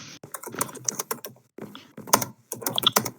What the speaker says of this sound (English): You just hear Alan typing